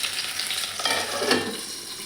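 Tomatoes and raw mango roast in a hot pan for a tangy village-style chutney, a steady close sizzle with a faint stirring scrape, no voices.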